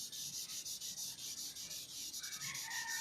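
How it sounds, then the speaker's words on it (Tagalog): Tissue paper rubs back and forth over a pencil drawing to smooth skin-tone shading, a soft rhythmic close swishing in quick repeated strokes. "At pantayin ulit ng tissue paper."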